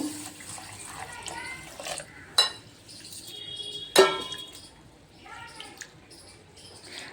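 Gobindobhog rice being rinsed in a pot, with intermittent splashes and running water, two sharper knocks against the pot, and faint voices in the background.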